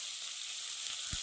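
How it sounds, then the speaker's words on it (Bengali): Dry red chillies, chopped onion and whole cumin seeds sizzling in hot oil in a wok, a soft, steady hiss with a faint low knock near the end. "শুকনো লঙ্কা আর পেঁয়াজ কুচি আর গোটা জিরে একটু ভেজে নিচ্ছি"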